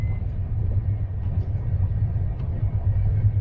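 Rajdhani Express on its long run from Bangalore to Delhi: a steady, heavy rumble of the moving train fills the whole stretch, even and continuous, with no voices.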